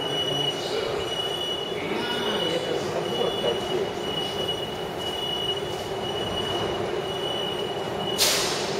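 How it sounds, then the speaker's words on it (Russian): St. Petersburg metro train departing Novokrestovskaya station, a steady loud rumble of railcars with high wheel squeal running throughout and a sharp screech near the end. "Отправление поезда"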